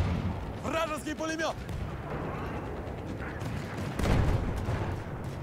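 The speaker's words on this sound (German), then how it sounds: "Der Panzer ballert sich da ein." A tank firing its cannon in a war video game set in Tsaritsyn, a heavy boom at about four seconds amid rumbling battle noise, with a voice calling out briefly earlier.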